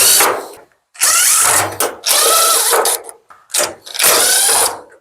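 A power drill backs screws out of a Samsung dryer panel, with several loud, close bursts of whining motor and ratcheting separated by short pauses.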